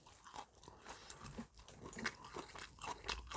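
Wet, crunchy chewing and biting of spicy bibim noodles and pork belly during a close-miked eating session: repeated soft crunches and moist mouth sounds come in an uneven rhythm, with no talking.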